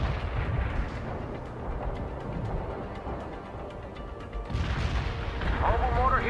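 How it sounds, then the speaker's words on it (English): Deep rumbling booms and rolling blasts from a napalm strike in the war strategy game World in Conflict, a sustained low roar of explosions with a brief radio voice near the end. "Napalm strike inbound."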